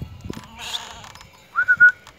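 Sheep bleat on a farm. A wavering bleat sounds early, and near the end a close animal cry breaks into three rising, whistle-like pulses over low outdoor background noise.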